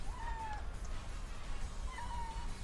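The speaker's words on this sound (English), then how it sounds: "Sorry for my loud cat." A pet cat meows loudly twice, each a drawn-out call with a gap between, close by over a steady low room hum.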